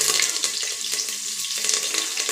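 Chopped onion and curry leaves hit hot oil in a pan, giving a loud, steady, hissing sizzle that stays dense and close for the whole moment, with no voices.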